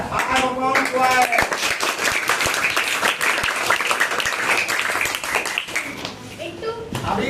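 Several people clap in a rapid, dense burst that fades after a few seconds, heard near and mixed with children's voices and chatter throughout.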